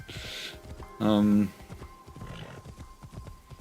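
Horse hooves gallop while riding in Assassin's Creed Shadows, a quick patter of hoofbeats broken by a short, loud whinny, with a voice talking over the action.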